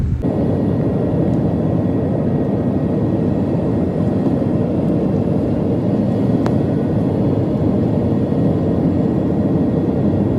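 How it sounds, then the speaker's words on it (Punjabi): A loud, steady airplane engine roar as the plane comes to a stop after landing fills the whole stretch, a constant broad rumble with no voices. "ਦੇਖੋ ਜਹਾਜ਼ ਹਜੇ ਰੁਕਿਆ ਹੀ ਆ"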